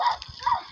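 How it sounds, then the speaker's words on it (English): A dog gives a quick pair of close, loud yips during a bike ride past a school playground, lasting under a second. "Oi, don't bark at it."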